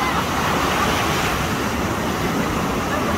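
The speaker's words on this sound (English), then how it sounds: "they're having like nice little waves going on." Small ocean waves washing in at Hightower Beach, Florida, a steady broadband rush of surf with some wind, close and fairly loud, no voices over it.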